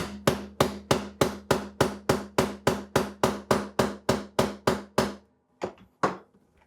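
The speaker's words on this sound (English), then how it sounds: "I'll kind of move it around while hammering a little bit" Steady, evenly spaced hammer blows on metal, ringing with each strike, followed by a pause and two final hits.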